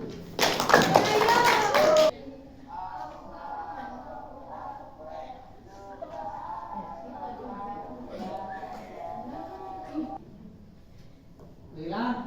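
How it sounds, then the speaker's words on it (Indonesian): A group of schoolchildren clap their hands in a short loud burst of about two seconds, followed by children and an adult talking in a classroom. "Tepuk tangan dulu."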